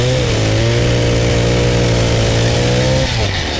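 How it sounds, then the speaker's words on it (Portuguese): A motor on a rustic woodworking setup starts and runs steadily, a loud continuous mid-pitched hum with a slight dip near the end, with no talking over it. "deixa eu ligar o motor"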